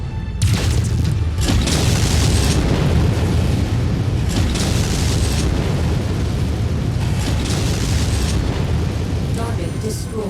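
Missile barrages exploding in MechWarrior combat: a dense, continuous roar of booming blasts and rumbling impacts throughout, with game voice callouts heard over it.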